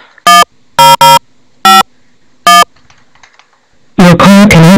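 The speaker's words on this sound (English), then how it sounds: "I think I'm dialing a wrong number." Phone number being dialed on a desk phone, a handful of loud, clean electronic keypad tones in an uneven rhythm, followed by a louder ringing or prompt tone, with no talking.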